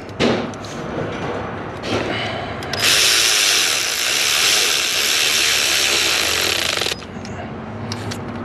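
A power tool tightens a nut on a 2003 GMC Sierra 2500HD, a loud steady buzzing burst of about four seconds between a few thumps and clanks of handling.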